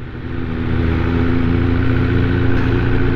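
A motorcycle rides along a road through a university campus, its engine droning steadily and close, building slightly early on and then holding an even, loud hum, with no voices.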